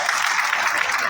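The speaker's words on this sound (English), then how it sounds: "Shall we give them a round of applause?" A brief, loud burst of audience applause at a political app launch event, dense clapping filling the whole moment.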